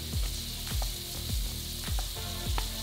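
Garlic sizzles steadily in melted butter in a hot pan, with a constant frying hiss and a few soft stirring scrapes recurring throughout.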